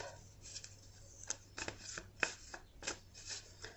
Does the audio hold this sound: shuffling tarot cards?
yes